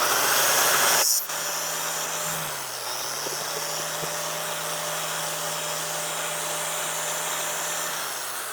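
Handheld grinder tapering the edges of a small metal die, a steady high whine running continuously after a brief louder start, close and alone.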